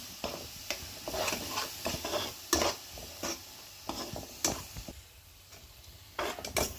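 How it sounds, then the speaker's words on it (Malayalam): Sardine pickle masala with vinegar being stirred in a pan, with a quick, uneven run of close scraping and tapping strokes over a faint sizzle and a short pause near the end, without any talk. "അത് നന്നായി ഇളക്കി കൊടുക്കാം"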